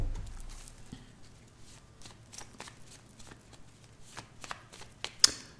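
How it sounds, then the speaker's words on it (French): Tarot cards are drawn and handled on a table, giving soft, irregular flicks, slides and taps close by, with one sharper snap near the end; the card sounds stand alone without talk. "je vais devoir retourner pour prendre une troisième carte tout de suite"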